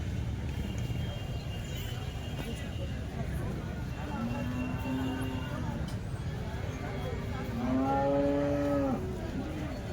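HF and Jersey cows at the Chalisgaon cattle market moo in several drawn-out calls, moderately near, over constant crowd noise and background voices.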